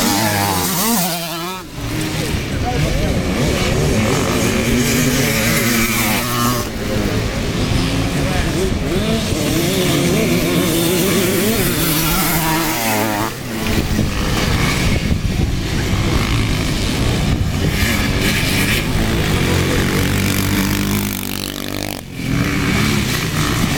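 Honda CR motocross bikes racing at a French event, engines snarling and revving continuously close by, with a crowd-like wash and an announcer's voice over the top.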